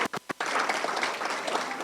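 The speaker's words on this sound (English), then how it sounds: "let's give a round of applause for Gail" After a few separate claps, an audience bursts into sustained applause for Gail Hanna, a foundation president honored for 29 years of service, heard at moderate volume across a hall.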